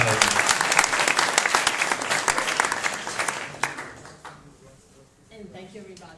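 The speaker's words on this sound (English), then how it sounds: "Yeah, big applause." An audience at a tech conference gives loud, dense applause that holds for several seconds and then dies away, leaving a quieter stretch with a voice speaking over the room.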